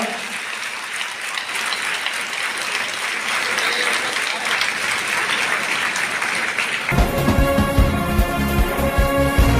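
Sustained audience clapping at a school gathering fills most of the stretch as a dense, steady wash, then gives way to loud music for the final few seconds.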